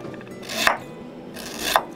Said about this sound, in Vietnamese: Gừng mình cũng cắt lát luôn để chút mình luộc tai heo ha.